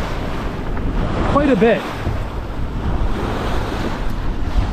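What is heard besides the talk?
boat bow plunging into ocean swell, waves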